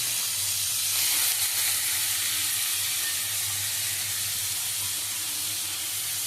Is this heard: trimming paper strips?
no